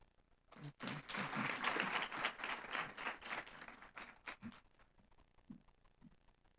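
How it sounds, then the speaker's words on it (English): An audience at a university Women's Month public lecture breaks into a round of applause, swelling quickly into dense clapping, then thinning to scattered claps with a few voices as it fades. "Please let us not be shy with our round of applause"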